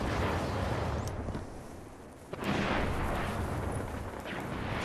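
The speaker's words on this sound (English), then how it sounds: "Dude stuck me perfect with a nade." A sticky grenade detonates in an online multiplayer shooter match, a loud booming blast followed by a rumbling tail, amid continuous game noise with a brief dip before a sharp second impact.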